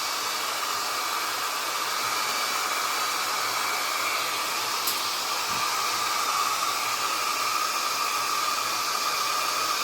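Hair dryer blowing over a wet watercolor landscape painting of a rainy paddy field, a constant loud whooshing roar that holds steady the whole time.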